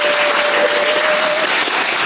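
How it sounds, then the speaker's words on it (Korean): Audience applause closes a book concert in Seoul, a loud, dense, even patter of many hands clapping without a break, with a thin steady tone running under the first part. "오늘 마무리하면서 박수하면서 끝내겠습니다."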